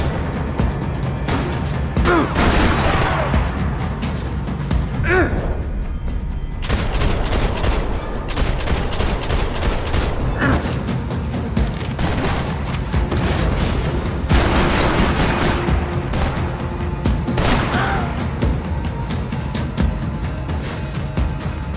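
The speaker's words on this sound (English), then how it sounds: "gunfire over Hoboken." Rapid bursts of gunfire crackle and boom continuously in the video game Max Payne 3, dense volleys and explosions layered over a loud, constant battle din.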